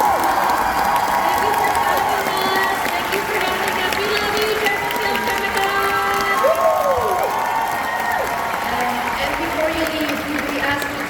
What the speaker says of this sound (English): Guys, I need just a huge, huge round of applause for Melissa.